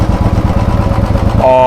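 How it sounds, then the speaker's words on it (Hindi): A Royal Enfield Bullet 350 BS6 motorcycle idles with a rapid, steady thump through its silencer, loud and close, with a higher-pitched tone entering near the end. "तो ये BS6 स्टैंडर्ड का साउंड है। थोड़ा सा RPM ज़्यादा लग रहा होगा आपको इसका।"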